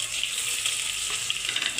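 Whole spices such as cinnamon, star anise and cloves sizzle and crackle in hot oil as they are stirred, a steady close frying hiss with no talking.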